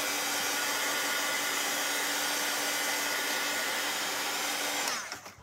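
A hair dryer blows steadily at close range to dry paint on a DIY wooden welcome sign, a loud even whoosh with a faint whine that cuts off near the end.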